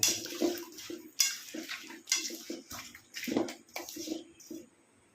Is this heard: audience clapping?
no